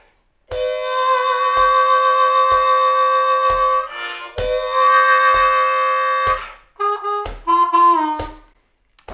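Bb harmonica playing a lick, with long sustained reedy notes pulsing on the beat, then a few shorter bent notes, loud and close and alone.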